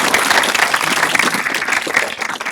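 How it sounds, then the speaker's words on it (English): Audience applause fills a meetup hall after a round of speaker talks, dense and steady throughout, close and fairly loud, with no voices over it. "let's have another round of applause for all of our speakers"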